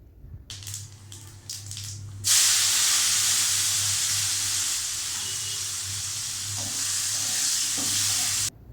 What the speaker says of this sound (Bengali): পেঁয়াজটাকে ভালোভাবে ভেজে নিতে হবে